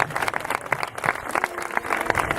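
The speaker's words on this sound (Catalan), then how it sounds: "un altre fort aplaudiment a tots els que estan treballant" Audience applause at a school welcome festival presentation, a brief burst of dense clapping from a crowd, fairly close and loud with an uneven rhythm.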